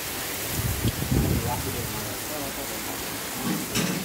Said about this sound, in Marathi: छान पाऊस आहे इकडे